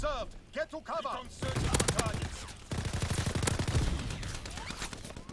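Rapid automatic gunfire from a Nambu Type 2 submachine gun and other weapons in a Call of Duty WW2 hardpoint match, loud dense bursts of shots running through most of the stretch after a brief opening, with faint voice over it.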